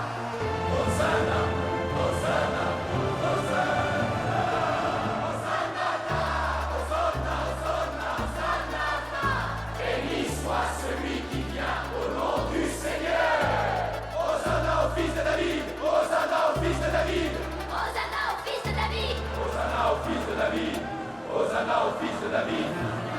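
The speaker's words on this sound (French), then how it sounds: "et toute la foule commença à crier" A large crowd shouts and cheers as Jesus enters Jerusalem, the roar held steady throughout beneath loud dramatic music with a pulsing low rhythm.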